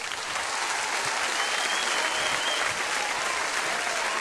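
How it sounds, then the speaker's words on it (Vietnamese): Sustained, dense applause from a large audience greeting comedians Chí Tài and Hoài Linh at a live comedy show in Vancouver, even and loud from start to finish without any talking. "Một tràng pháo tay để chào đón phần trình diễn của đôi danh hài Chí Tài và Hoài Linh."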